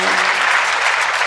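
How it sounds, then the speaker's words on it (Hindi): Loud, close audience applause at a Hindi poetry and love-song recital, dense and continuous clapping for the whole short stretch. "आपकी तालियां कमजोर हैं इन पंक्तियों पर"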